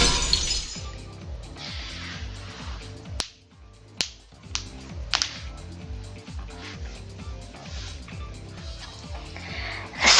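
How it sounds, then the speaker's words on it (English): Glass shatters several times in the visual novel Fate/Extra, sharp crashes at irregular moments over a steady, droning pulsing music bed, loud and close. "The sound of breaking glass is accompanied by a light cutting through the gloom."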